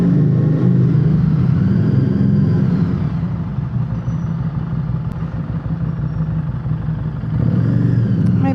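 Harley Davidson Street XG500 motorcycle engine rumbling steadily in an underground car park, loud and close with echoing low drone, easing slightly mid-ride before swelling again near the end.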